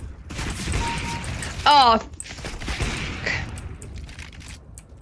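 Bursts of rapid gunfire in a video game match, crackling volleys spread across the clip with mechanical clatter, mixed with a brief exclamation and other game effects.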